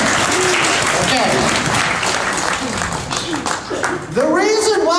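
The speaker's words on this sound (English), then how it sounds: "Give her a big round of applause, ladies and gentlemen." An audience at a live comedy show applauds, a dense burst of clapping heard under a voice speaking over it.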